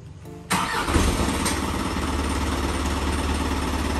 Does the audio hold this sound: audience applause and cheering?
no